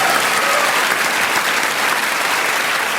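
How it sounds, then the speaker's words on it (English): A studio audience on a comedy panel show applauds, a loud, dense and steady wash of clapping that fills the whole stretch without pause. "Clap now."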